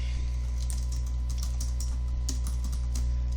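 Fingers tap a computer keyboard in a quick, uneven run of close clicks over a steady low electrical hum.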